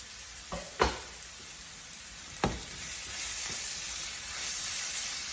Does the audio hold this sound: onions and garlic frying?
yes